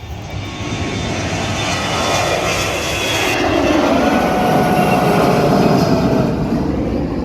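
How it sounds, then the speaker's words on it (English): An airplane passes overhead near Whitehouse Village, Montego Bay, Jamaica, its engine roar loud and sustained, swelling gradually and holding strong as it crosses, with no talking. "Oh, another plane."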